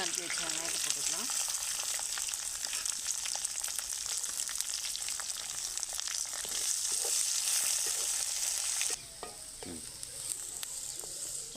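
Finely chopped onions hit hot oil in a pan already holding bay leaf and fennel seeds, setting off a loud, steady sizzle with stirring scrapes that runs unbroken and eases slightly near the end.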